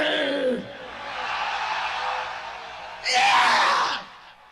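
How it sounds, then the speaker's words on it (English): Metal concert crowd at a 1985 show screaming and yelling in a sustained roar, swelling into a louder burst of cheering near the end. "I want to hear you fucking scream."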